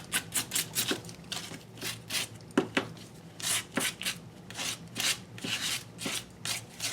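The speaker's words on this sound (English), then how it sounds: "I'm bringing back in my sandpaper and just grunging it up a little bit." Sandpaper rubbed over a painted paper clay heart, a close series of quick rasping scrapes in uneven bursts, some strokes longer and louder than others, with no talking.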